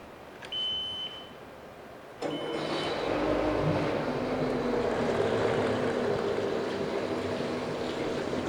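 2006 Mercury 75hp four-stroke remote outboard motor, freshly serviced, starts with a brief crank and catches into a steady low idle, running close and continuous after a short high beep at the start.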